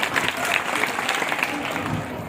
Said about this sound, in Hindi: ताली जरूर बजा दीजिए अगर पसंद आ जाए ये शायरी।